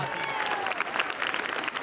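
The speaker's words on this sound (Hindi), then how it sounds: "तो आप तालियां बजाते रहिए।" Steady, dense applause from an audience at a Hindi comedy poetry show, continuous and even throughout with no pauses.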